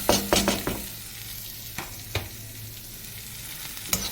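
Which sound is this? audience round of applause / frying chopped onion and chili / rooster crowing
frying chopped onion and chili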